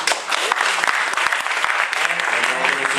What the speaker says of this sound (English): Let's give Forrest Pies a round of applause.